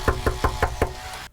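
Knocking on a residential door by political canvassers in Spokane: five evenly spaced, firm knocks sound close by, with no voices.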